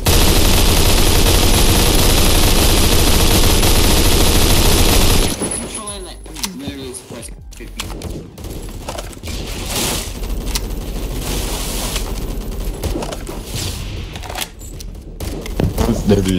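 MG36 machine gun fire in Phantom Forces, dense sustained automatic fire at the start, then a quieter stretch of intermittent shots and clatter with game noise underneath.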